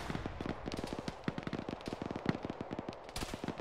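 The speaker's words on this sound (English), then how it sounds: "There's a lot of fire coming from the south." Gunfire from the south in a video game: steady fast volleys of shots at a fairly low level, with many sharp cracks repeating all the way through.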